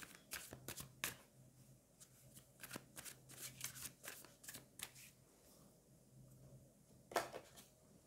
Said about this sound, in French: Je vais prendre encore une carte là-dessus.